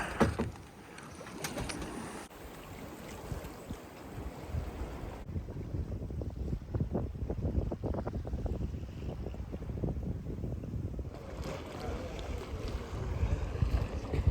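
A sailboat moving fast through the water as the wind returns at sundown near Hvar, Croatia, with steady wind buffeting the microphone and continuous rushing water and hull noise throughout.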